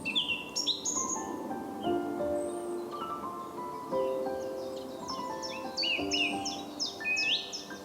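Many small birds chirp and trill repeatedly around feeding posts beside a reservoir path, bright overlapping calls close by over a steady outdoor hum.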